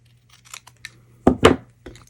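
Scissors snip a small wooden piece for a 5x7 faceted easel, a few light cuts followed by two sharper, louder snips close up, then a faint final click.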